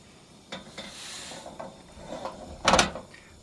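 A vintage cast iron waffle iron with cinnamon oat batter is flipped, giving a few faint metallic knocks and soft scrapes over a quiet sizzle, ending in one sharper clank.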